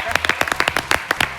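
Studio audience clapping for guests on a Uruguayan television panel show, a loud, close series of sharp claps in quick irregular rhythm, with voices over them.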